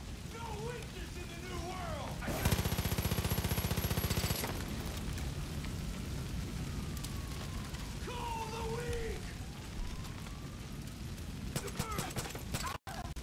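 Automatic gunfire in Far Cry 5 crackles in a dense two-second burst, followed by scattered shots and mechanical clanks amid game ambience, with a voice talking in places.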